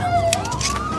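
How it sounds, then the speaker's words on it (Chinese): Police car sirens wail in a Chinese comedy film scene as squad cars close in, a continuous rising and falling siren that stays loud and close throughout. "此时警车已经包围了过来"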